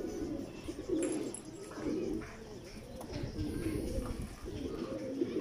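Several teddy pigeons coo softly and repeatedly, low throaty rolling calls overlapping close by, with faint chirps and rustling in the background.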